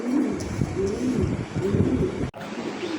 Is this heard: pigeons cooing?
yes